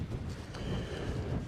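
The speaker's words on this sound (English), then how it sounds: "when you have 30-mile-per-hour winds, it's cold." Strong outdoor wind of about 30 mph on a cold day, a steady broadband roar with gusty buffeting against the microphone, loud and continuous for the whole moment with no talking.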